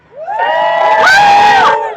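Rally crowd cheering and whooping loudly, a burst of many raised voices with shouts and hollers that builds fast, holds for about two seconds, then drops away.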